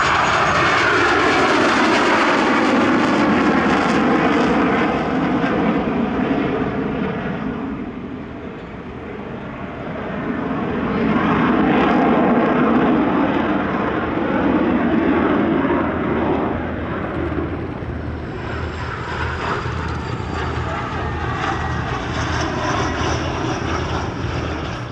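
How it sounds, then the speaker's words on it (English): Canberra jet, built as a Canberra T4 trainer and later modified to TT-18 standard, flying at the Shellharbour airshow in 2024; a loud, continuous engine roar that dips midway and swells again, with no talk. "The other classic jet in the programme was the Canberra."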